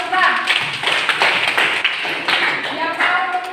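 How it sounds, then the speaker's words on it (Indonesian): Applause in a physics classroom, scattered students clapping steadily with sharp individual claps throughout, mixed with some voices. "Tepuk tangan untuk Anda"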